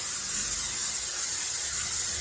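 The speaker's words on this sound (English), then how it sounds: "We're going to take Pam cooking spray." Pam cooking spray hissing steadily from an aerosol can onto a pan in a kitchen, a close, continuous airy spray lasting about two seconds with no talk.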